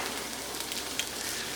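Garlic sizzles and fries in a pan for a vegan Bolognese, a steady close hiss of hot oil with faint crackles running throughout, no voices over it.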